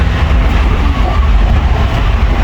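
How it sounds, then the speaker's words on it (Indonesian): A driverless rubber-tyred Paris Metro Line 1 train runs with a steady, loud, deep rumble and continuous rolling roar heard from inside the carriage, with no voices. "kereta bawah tanah ini kalau tidak salah ada ban karetnya ya."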